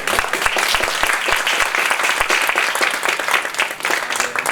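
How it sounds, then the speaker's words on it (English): Audience applause at a general council meeting, dense steady clapping from a room full of people, loud and sustained for the whole stretch. "How about another round of applause?"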